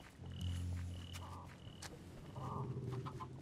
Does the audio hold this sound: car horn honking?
no